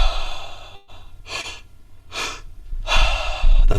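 Two-stage breathing through the mouth, a belly inhale then a chest inhale followed by an exhale: three or four airy, close breath sounds in a steady rhythm, the last one louder and longer, with no talk.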